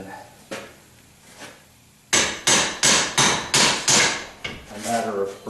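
Heavy hammer blows strike a rusted trailing arm spindle on a 1976 Corvette to break it free of the carrier, about eight loud evenly spaced metallic hits after quieter taps, with the ring of the part trailing off at the end.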